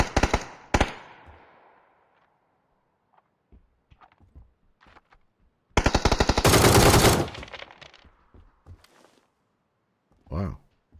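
In the video game PUBG, automatic gunfire rattles out in a short burst and then a longer sustained volley, with a few scattered shots and voices talking between the bursts.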